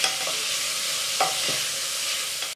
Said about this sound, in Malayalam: സവാള ഒന്ന് പെട്ടെന്ന് വഴന്ന് കിട്ടാൻ വേണ്ടി നമുക്ക് ഇതിലേക്ക് 1/2 ടീസ്പൂൺ ഉപ്പ് പൊടിയും കൂടി ചേർത്ത് നന്നായിട്ട് വഴറ്റി കൊടുക്കാം